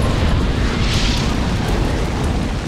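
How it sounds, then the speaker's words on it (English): A MAC Blast orbital strike detonates in the real-time strategy game Halo Wars Definitive Edition, a loud, dense rumbling blast that roars continuously with heavy low-end power. "Now select the Mac Blast and let's blow up some stuff."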